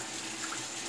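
Cold tap water running steadily as a shaving brush is rinsed under the faucet in a bathroom sink, a short, close, even hiss and splash.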